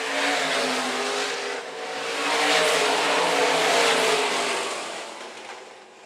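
IMCA stock cars race around the Phillips County Raceway track, engines roaring loud and continuous as the pack passes, the sound swelling and fading slightly with no voices heard.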